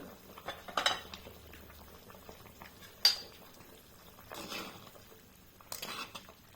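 A pot of fish curry on the boil with its lid lifted off, giving soft bubbling under a few sharp metallic clinks and scrapes of the lid and utensils against the pot, with no talking.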